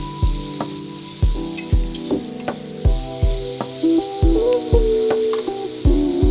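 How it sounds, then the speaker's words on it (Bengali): Spice mixture sizzling and frying in oil for a curry of small sea fish with potatoes, with a steady crackle broken by repeated close scrapes and clanks of a spoon stirring in the pan. "পানি দিয়ে আমি 4 থেকে 5 মিনিট ভালোভাবে কষিব।"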